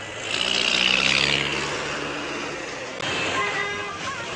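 A vehicle turns around on a village road in flooded conditions, its engine running steadily and swelling slightly louder early on, with people speaking over the rumble.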